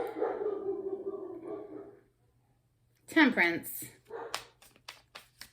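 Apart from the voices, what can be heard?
dog barking, someone at the door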